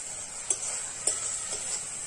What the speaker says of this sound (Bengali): দিয়ে মশলা 2 মিনিট ভালোভাবে কষাই করে নেব।